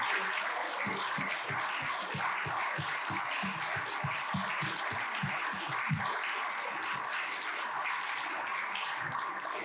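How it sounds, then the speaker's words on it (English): A crowd applauding at an anniversary celebration, dense overlapping claps sustained throughout at a moderate distance, with no talking over it. "I'd like to see all the past and present faculty to stand and get a good round of applause"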